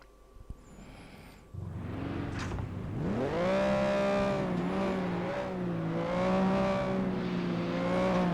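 In the PS2 racing game FlatOut 2, a car engine revs and accelerates through climbing gear tones during a derby event, loud and steady with layered harmonic whine and no voices.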